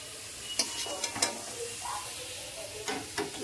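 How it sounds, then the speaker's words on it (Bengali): Pineapple pieces dropped into hot sugar syrup in a pan, a soft sizzle with scattered scraping stirs and light clinks, fairly close. "এইবার আমি আনারসগুলোকে নিয়ে চিনি যে শিরা করেছিলাম তার মধ্যে দিয়ে দিচ্ছি।"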